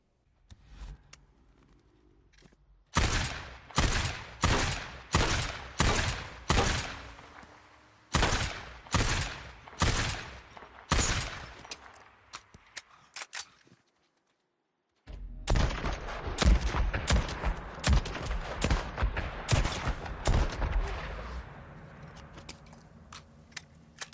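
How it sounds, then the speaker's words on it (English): SSR semi-auto sniper rifle firing in Days Gone, a series of loud, evenly spaced sharp shots in bursts, followed by a denser stretch of rapid gunfire with clattering. "we have the SSR, a semi-auto sniper rifle with a pretty good damage output"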